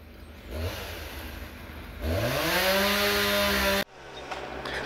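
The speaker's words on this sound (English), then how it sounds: "I love the sound of chainsaws in the morning." A chainsaw run by a professional tree crew removing a large fallen tree roars loud and close, revving up sharply and holding a high whine for a couple of seconds before cutting off abruptly, with lower engine noise continuing afterward.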